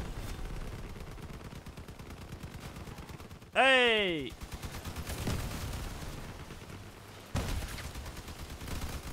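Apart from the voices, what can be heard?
cannon fire in the video game Crossout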